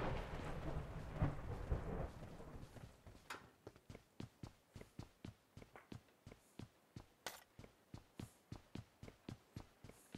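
In-game rain and a thunder rumble open the moment, then give way to a run of evenly spaced sharp footfall-like thuds that repeat steadily, all faint and distant with no talk.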